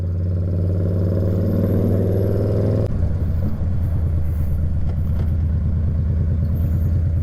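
A motorcycle whose exhaust touches the ground runs close by with a steady loud engine drone. Its pitch drops sharply partway through and then settles into a lower, throbbing idle-like rumble.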